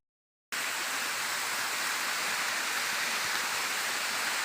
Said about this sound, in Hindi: तो ये है हमारा वो गदेरा जहां से हमारा पानी आ रहा है